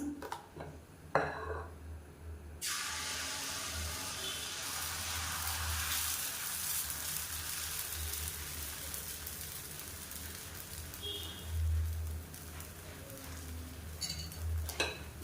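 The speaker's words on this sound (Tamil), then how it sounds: "இப்போ நம்ம தோசை ஊற்ற ஆரம்பிச்சிடலாம்" Tomato dosa batter sizzles on a large hot griddle, a loud, steady frying hiss that swells after a quiet start, with occasional faint clinks of a ladle or spatula.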